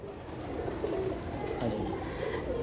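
Teddy pigeons coo continuously in low, throaty overlapping calls, several birds close together under a faint background hiss.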